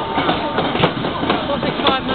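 A train rumbling at a London station platform, a loud continuous roar with rhythmic clanks and rattles of the cars passing close by.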